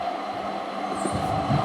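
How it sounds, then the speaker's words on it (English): A tram rolls past a city square, a steady rumbling drone with a faint high squeal from the rails, continuous and fairly close throughout without any talk. "probably wait for the tram to pass"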